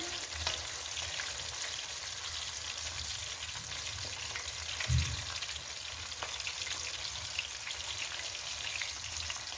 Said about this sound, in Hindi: आंच पर आपने इसको फ्राई करना है।